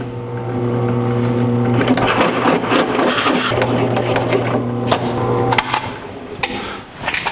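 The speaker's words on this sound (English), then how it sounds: "Here we are drilling our 1-inch holes for the sleeves." A steady drill motor whine holds an even pitch throughout while boring 1-inch holes in steel, with harsh grinding and scattered metallic clanks and knocks layered over it, close and loud.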